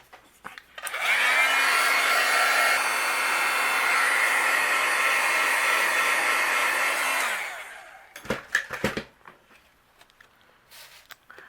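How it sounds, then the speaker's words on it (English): A heat gun runs steadily for about six seconds to melt white embossing powder on a card panel, a loud continuous blowing whoosh with a low hum that starts and cuts off cleanly, followed by a few brief clatters and handling noises. "And then I'll use my heat gun and we'll melt it."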